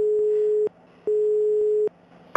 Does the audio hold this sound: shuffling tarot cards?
no